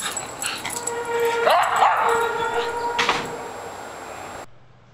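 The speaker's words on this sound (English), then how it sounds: "This is my dog, Riley." A pet dog named in a backyard, jumping at an empty tree, gives a few yelps and whimpering barks with a drawn-out whining tone, close by, before falling silent at the end.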